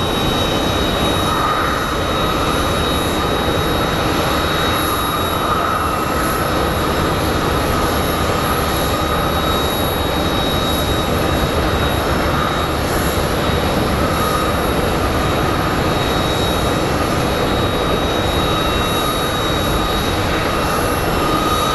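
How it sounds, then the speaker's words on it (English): An American Airlines Airbus A321 arriving from Las Vegas at Phoenix Sky Harbor gives off a steady, loud, broadband roar that fills the whole stretch without a break, with no voices over it. "American 2985 from Vegas is arriving. It's an A321."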